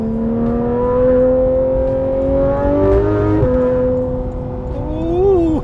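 Car engine revving up during an overtake, a steady loud drone with rising harmonic pitch that climbs, dips at a gear change, then climbs again, close and alone without talk.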